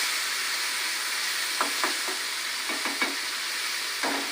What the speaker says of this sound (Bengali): দেখো মাছটা ভাজলাম, একটু হালকা করে ভাজবো